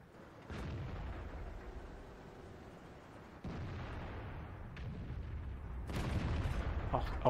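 Tank cannon shots in World of Tanks, with the M46 Patton KR in play: three heavy booming blasts, each with a rumbling tail, the last one loudest.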